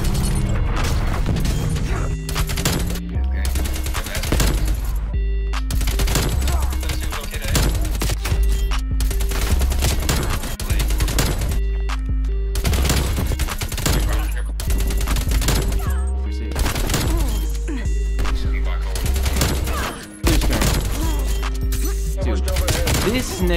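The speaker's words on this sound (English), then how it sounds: "Hostile artillery targeting. Artillery inbound." Artillery strike explosions and heavy gunfire in the video game Black Ops Cold War, a loud, relentless barrage of booming blasts and rapid shots that crowd together and overlap nearly nonstop, with only brief gaps between bursts.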